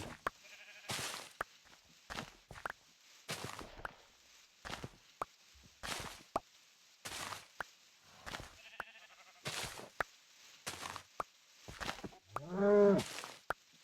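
Cows in the Minecraft video game give short moos scattered among footstep clicks and other game sounds, quiet and intermittent, with one longer, more tonal call near the end.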